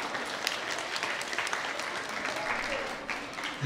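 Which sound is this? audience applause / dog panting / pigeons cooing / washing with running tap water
audience applause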